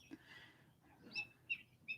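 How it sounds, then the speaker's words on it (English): Birds chirp outdoors in a morning setting: a few short, high, sharp calls spaced about half a second apart, faint and distant over quiet background. "the birds are chanting too"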